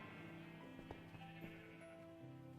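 Faint, wavering sheep bleats from a crowded pen of sheep in a Minecraft-style multiplayer game. A few drawn-out, overlapping calls sit over a steady low background, with no voices.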